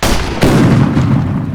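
A single heavy tank cannon blast in a video game booms out loud and close, followed by a sustained rumbling roar that fills the rest of the moment.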